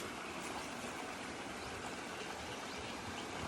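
A mountain stream flows in a steady, even rush of water that stays faint and unchanging throughout, with no other sounds standing out.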